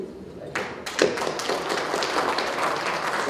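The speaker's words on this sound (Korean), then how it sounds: "박수 한번" Audience at a Cheongju Rotary Club founding ceremony bursting into applause, a few scattered claps building quickly into steady, fairly close clapping from a crowd.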